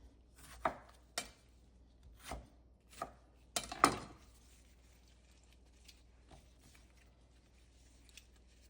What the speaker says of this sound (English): Just going to roughly chop these